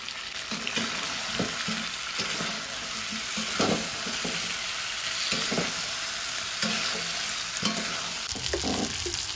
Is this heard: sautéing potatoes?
yes